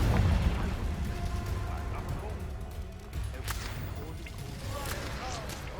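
A Confringo fire spell detonates in the Hogwarts Legacy video game: sharp bursts and pops ring out over a dense, rumbling low background of game sound, with occasional whip-like cracks.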